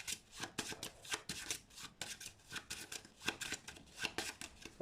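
Playing cards are handled for a card trick: close, quiet, rhythmic riffling and snapping of the deck, with repeated bursts of shuffling and flicks and no talking.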